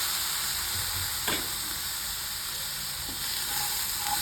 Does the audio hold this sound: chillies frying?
yes